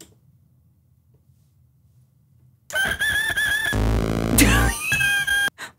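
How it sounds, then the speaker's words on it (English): A battery-powered toy farm animal sound box plays an electronic rooster crowing, after a few seconds of near silence, loud and close with a synthetic, slightly distorted tone. "The rooster says..."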